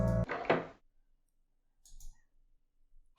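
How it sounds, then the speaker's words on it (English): A door slams and its lock clicks in the indie Japanese horror game Hyakki Yagyou, one heavy thud followed by short quiet latch clicks, then silence. "Kiyomi quickly ran inside and locked the door."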